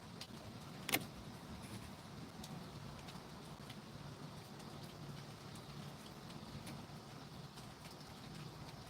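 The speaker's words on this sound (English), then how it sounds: "So yeah, it's raining right now." Steady rain falling outdoors, a soft continuous hiss of drops with a faint sharp tap near the start, distant and low in level.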